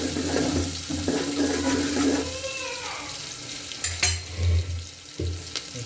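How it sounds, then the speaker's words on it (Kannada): Onion and curry leaves fry in a pan over a wood-fired stove, giving a steady crackling sizzle with some stirring and water-like clatter, fairly close and without speech. "ಈರುಳ್ಳಿ, ಕರಿಬೇವು ಚೆನ್ನಾಗಿ ಫ್ರೈ ಆಗ್ತದೆ."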